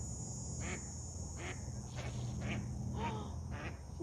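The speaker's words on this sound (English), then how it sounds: "Now she's like doing a perimeter, quacking to find it." A mother duck quacks in a campground in Acadia, searching for her duckling, giving about six short, evenly spaced quacks at a moderate distance over a steady background hum.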